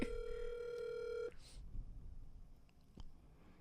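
A telephone rings with a steady electronic tone for about a second, then cuts off, leaving faint room noise and a soft click.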